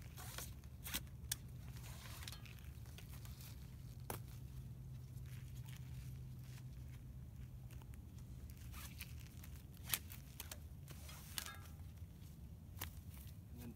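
Straps come off a bicycle rigged to a hand-cranked oil press, with scattered quick rips, zipper-like pulls and rustling handling noises close up.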